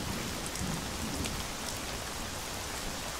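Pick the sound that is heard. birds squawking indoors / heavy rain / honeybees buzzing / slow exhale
heavy rain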